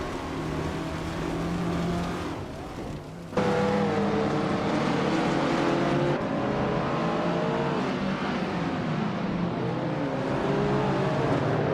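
A 1969 Fiat Dino 2400 race car in a racing video game, its engine roaring loud and steady with rising and falling revs through gear changes, one brief dip near the start before the sustained drone returns.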